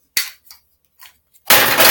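A hammer strikes during a televised wrestling match, giving a sharp loud impact, then a few fainter knocks, before a burst of loud crowd noise.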